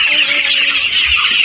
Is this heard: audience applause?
no